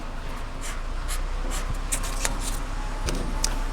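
Short scratchy marker strokes draw a cut line on taped sheet metal of a 1967-72 Chevy or GMC truck bed side, several quick marks over a steady background hum.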